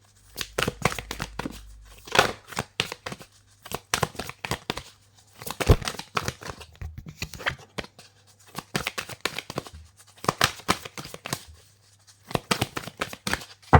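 Oracle cards shuffled by hand in repeated rapid bursts of riffling and flicking paper, separated by brief pauses, close and clear with a faint low hum underneath.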